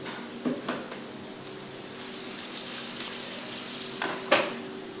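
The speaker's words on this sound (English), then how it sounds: "How would you like your egg? Fried." A sunny-side-up egg fries in a pan with a soft, continuous sizzle, broken by a few sharp clatters of utensils near the start and end.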